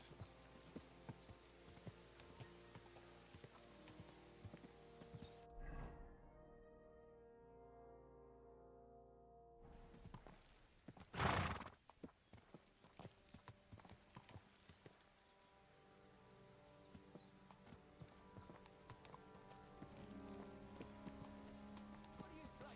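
In Kingdom Come: Deliverance II, a horse's hooves clip-clop steadily at close range amid ambient game sounds and music, with a sharp loud burst partway through and a brief quiet gap.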